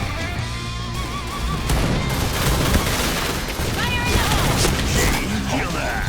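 Shotgun fire in a zombie shooter game, a dense burst of blasts and booms crowding together, loud and chaotic, with a voice talking over it.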